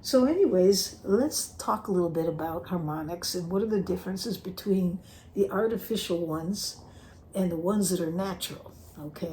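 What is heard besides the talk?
No distinct noise like a dog, phone or traffic.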